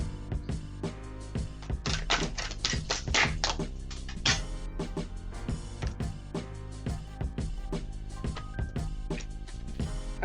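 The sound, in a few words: tarot cards being shuffled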